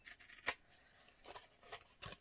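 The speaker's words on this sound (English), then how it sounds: "we're going to cut these off here." Scissors snipping through a recycled plastic food container, a handful of quiet, close crisp cuts spaced unevenly, with one sharper snip near the start.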